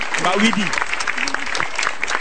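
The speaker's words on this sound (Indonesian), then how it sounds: "Tepuk tangan dong" A stand-up comedy audience in Indonesia breaks into applause, a dense wash of clapping that runs throughout while someone talks over it.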